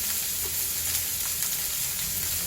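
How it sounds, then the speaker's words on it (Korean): Food pan-frying until golden and caramelized, a dense, even sizzle that holds steady throughout, close and fairly loud with no talking. "이렇게 구워주면 되고요. 노릇노릇하게."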